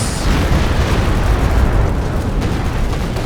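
Loud, continuous rumbling explosions and bursts of artillery fire from the World War II strategy game Company of Heroes 2, rolling together for several seconds with no voices over them.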